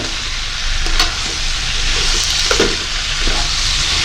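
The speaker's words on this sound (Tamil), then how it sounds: "சாம்பார் பொடியை போட்டு எல்லா இடமும் நல்லா படக்கூடிய வகையில் இதை வந்து கிளறி விடுங்க" Sambar powder stirred into sambar in a pot, a loud continuous sizzle and bubbling with scattered clinks and scrapes of the spoon against the pot.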